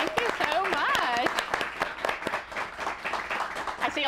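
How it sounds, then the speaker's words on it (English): A studio audience claps along during a television segment while a voice talks over it, the crisp separate claps standing out against the speech. "We have a studio audience here. They're the ones who are clapping."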